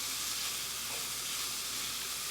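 Onion and garlic sizzle steadily in a skillet, a soft, even frying hiss that runs the whole time with no talking.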